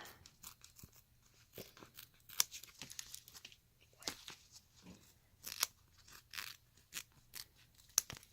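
Scissors trimming fabric around an appliqué on a hooded towel, heard as quiet, close, irregular snips and crisp cutting sounds spread throughout.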